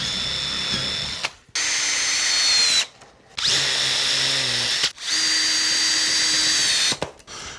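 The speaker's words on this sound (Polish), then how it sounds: "W dwóch miejscach wystarczy, że nawiercimy." A power drill bores holes into wood for a handmade lantern top, running in three or four loud, close, high whining bursts of a second or two each, separated by short silent pauses.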